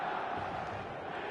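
A stadium crowd in the football game eFootball keeps up a continuous roar of chanting and cheering, dense and steady across a very short stretch with no other sounds standing out.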